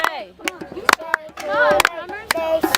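Rhythmic hand clapping around a campfire at Lake Hemet, sharp claps mixed with a group of voices talking and singing, the beat irregular but recurring.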